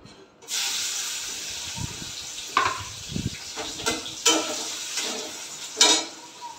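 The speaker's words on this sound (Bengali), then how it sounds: "পেঁয়াজগুলো লাল করে ভাজা হয়ে গেছে" Onions fry in hot oil with a loud, continuous sizzle that starts abruptly, broken by repeated stirring scrapes and bursts of hissing, close up.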